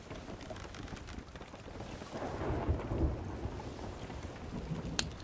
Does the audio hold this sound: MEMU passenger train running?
no